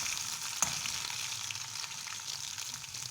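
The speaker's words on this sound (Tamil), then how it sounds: "நம்ம தேங்காய் தூள் போட்டு வதக்கிட்டு பச்சை மிளகாயும் போட்டு சேர்த்து வதக்கிக்கலாங்க" Grated coconut, green chillies and garlic sauté in a pan, giving a soft, steady sizzle heard faintly throughout, with one small click of a utensil early on.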